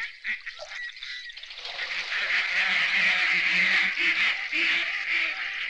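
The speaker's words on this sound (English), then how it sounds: "Hundreds of thousands of ducks nest in the tiny lakes and potholes of this cattle country." A large flock of ducks on small prairie lakes honking and quacking in a dense, continuous chorus that swells after a brief quieter start, with a voice underneath.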